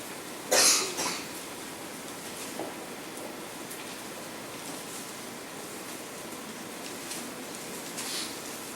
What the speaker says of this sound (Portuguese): me desculpem por essa tosse, mas quanto mais eu falo, mais coça a garganta